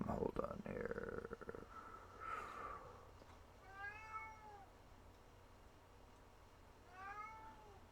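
Male house cat that wants to go outside gives two drawn-out, rising meows a few seconds apart, fairly faint and close, after a burst of brief talk and room noise.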